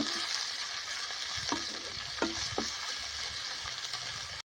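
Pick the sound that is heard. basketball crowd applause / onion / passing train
onion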